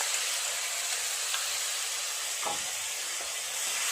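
Ginger, tomato paste and ground spices sizzle in hot oil with a steady, close hiss throughout, no voices.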